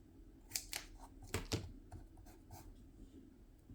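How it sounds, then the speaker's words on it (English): Scissors snip at the corner of a graded card slab in a few sharp, close cuts, with short pauses and faint handling noise between them. "Let's trim this corner."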